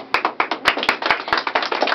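A small group clapping in a radio studio, quick irregular claps close by for about two seconds with no talk.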